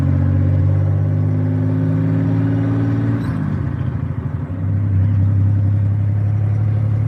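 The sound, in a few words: leaky V6 car engine running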